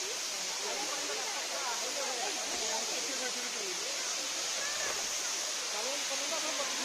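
Steady roaring rush of a hillside waterfall in Malkangiri, Odisha, broadband and constant throughout, loud and close with no breaks.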